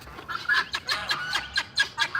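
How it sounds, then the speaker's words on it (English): A female bird at an animal sanctuary gives a repeated clucking call, a string of short, close, fairly loud pulses in an uneven rhythm with no talking over it. "that call, that cluck, cluck, cluck, cluck, cluck, cluck she's doing, that is a female noise"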